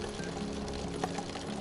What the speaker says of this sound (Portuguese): E o Kevin agora vai encher o garrafão.